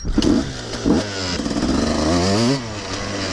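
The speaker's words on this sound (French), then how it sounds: "Ah, le petit bruit du deux temps." A KTM 250 two-stroke Six Days enduro motorcycle revs close by with a raspy, buzzing tone, giving a couple of short throttle blips and then a rising, sustained rev before dropping back to a fast idle.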